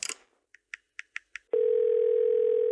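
A telephone handset gives a few short keypad beeps, then a steady, loud continuous dial tone holds to the end.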